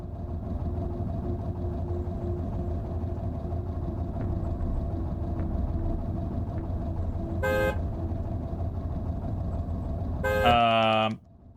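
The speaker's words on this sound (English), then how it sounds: "a lot of driving cars slowly, honking to drag zombies behind me" Car horn honks in the Cataclysm: The Last Generation video game, a single tone near the end and then a loud, longer multi-tone blast, heard over a steady low engine drone while a car drives slowly.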